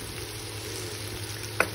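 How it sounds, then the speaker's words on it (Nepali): Ginger garlic paste and spices for chicken biryani fry in a pan with a soft, steady sizzle, and a single light clink sounds near the end. "अदुवा लसुनको पेस्ट हालिसकेपछि मजाले भुट्ने"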